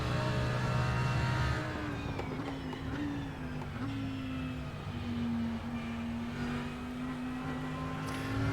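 A race car in a Nürburgring racing video game held at full throttle, its engine a steady loud high-revving whine that shifts pitch through gear changes and corners, alone without talk.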